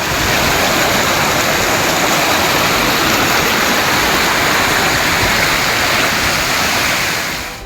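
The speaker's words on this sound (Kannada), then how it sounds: "ಆಳಂದ ಪಟ್ಟಣದ ಭೀಮಾ ನಗರದ ಪಾಚ್ಪುಲ್ ಹಳ್ಳ ತುಂಬಿ ಹರಿಯುತ್ತಿದೆ" An overflowing stream in Bhima Nagar, Aland, Karnataka, swollen by heavy rain, rushes with a loud, steady roar that fills the whole stretch without letup and eases slightly only at the very end.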